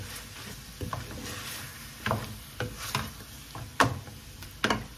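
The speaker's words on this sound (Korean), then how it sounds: "냉동 새우살 넣어서 같이 볶아주시면 되고요" Frozen shrimp and meat stir-fried in a pan at home for Vietnamese banh xeo, with a soft steady sizzle under sharp, irregular clicks and scrapes of a utensil against the pan.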